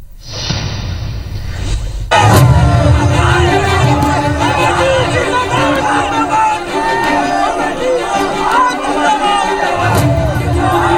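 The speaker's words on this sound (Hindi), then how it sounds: "ये भीड़, ये गूंज, ये समर्थक, ये मामा मामा के नारे और समर्थकों की भीड़ से घिरे शिवराज सिंह चौहान" Dense crowd of supporters pressing around Shivraj Singh Chouhan, former Madhya Pradesh chief minister, after a swearing-in, with loud continuous babble and chanting of his nickname that swells sharply after a quiet opening and stays full.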